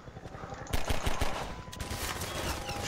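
Helicopter machine-gun fire in the video game Half-Life 2, heard as continuous rapid bursts of loud gunfire with dense, rattling impacts throughout, growing heavier midway.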